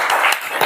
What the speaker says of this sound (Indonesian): Kalau sudah beri aplaus dulu buat teman-teman kalian.